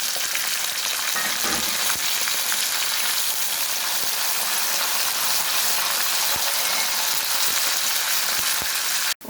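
Green chillies and curry leaves fry in hot oil for a homestyle pickle, giving a loud, steady crackling sizzle that runs unbroken until a sudden cut at the end.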